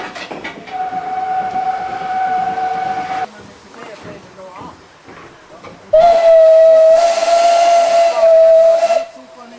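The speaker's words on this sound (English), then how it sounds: "which was acknowledged by applause and loud whistle by the other engines." Steam locomotives at Untervaz station during a Rhaetian Railway steam festival sound their whistles, a shrill sustained blast, then a pause filled with hiss and murmur, then a second louder, longer whistle, close by amid steam hiss.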